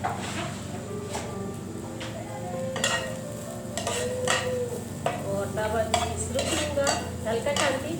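Minced chicken stirred and sautéed in a little oil in a pan for egg rolls, a steady soft sizzle under repeated scraping and clinking of a spatula against the pan, close by.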